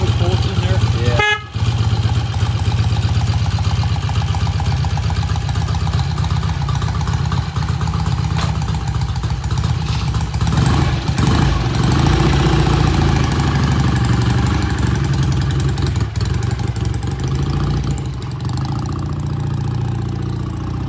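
A BSA motorcycle engine runs steadily throughout a test ride with a loud, continuous low rumble, joined by a brief horn-like toot near the start and wind noise, with occasional voices.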